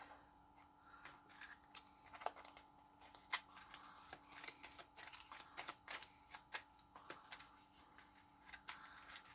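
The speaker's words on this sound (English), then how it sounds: "There I go, shuffling with my arm on the table again" Sleeved playing cards are riffle-shuffled on a table during a board game, giving quiet, rapid flurries of crisp plastic flicks and taps that repeat in short bursts with soft handling noise between.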